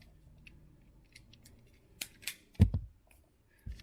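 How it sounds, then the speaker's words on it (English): Wire strippers cutting and stripping insulation from wires during a 7-pin trailer harness install on a 2020 Kia Telluride: a few sharp close snips and clicks, the loudest cluster near the end, over quiet background. "I'm going to strip these wires."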